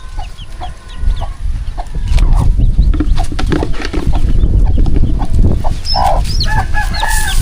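Chickens cluck steadily, with a rooster crowing now and then, on a busy farmyard. The fowl sound close and loud over continuous low rumbling background noise, and nobody speaks.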